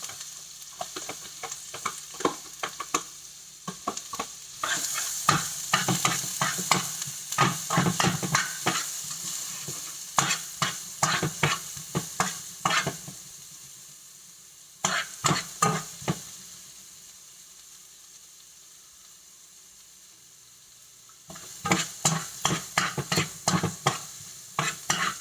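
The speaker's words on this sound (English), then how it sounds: "We're going to drop that right into the pan and get that going. And we're going to put our onions in there." Onions frying in butter in a pan, heard as a steady close sizzle with repeated bursts of stirring scrapes and clatter, easing briefly before the stirring picks up again.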